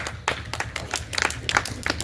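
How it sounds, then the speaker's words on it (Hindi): A group claps for a shot put thrower at an outdoor charity games day, with short, uneven bursts of hand claps over faint background murmur. "ताली मारो"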